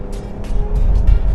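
A 2023 Jeep Grand Cherokee L with a 24-valve 3.6 engine cruises onto a highway, giving a loud, low road rumble with repeated whooshing bursts of wind and passing traffic close by.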